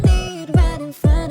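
Electronic music track with a producer transition effect: three punchy bass-heavy hits with tonal tails, the track cutting in and out in a stop-start rhythm.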